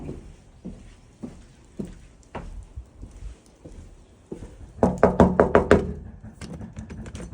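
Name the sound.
knocking on a house door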